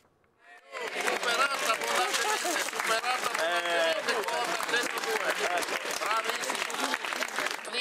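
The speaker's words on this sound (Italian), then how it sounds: "Tributiamo un applauso sì, eh, grazie. al fautore di questa specialità." A crowd applauds the baker of a record-breaking 102 kg gubana, a festive filled sweet bread. After a brief quiet start the clapping swells quickly and stays dense and lively, with voices and cheering mixed in throughout.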